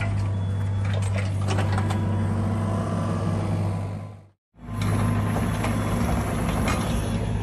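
A heavy excavator engine runs steadily while shifting drain rock on a house-building site, a loud, close, continuous low diesel drone with scraping and clatter on top, briefly cut by a short dropout midway.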